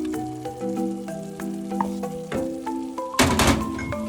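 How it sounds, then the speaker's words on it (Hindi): Potatoes and cauliflower tip into hot oil for an aloo gobi matar dish, a series of clattering drops over a continuous sizzle, ending in a louder burst of frying as the pieces hit the pan. "अब इसमें ये आलू गोभी डाल देंगे"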